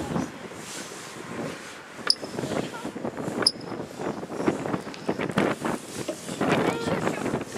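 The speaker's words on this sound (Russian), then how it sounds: "Ветер что-то. Да, ветер." Gusty wind buffets the microphone in uneven rumbling bursts, with brief voices talking over it.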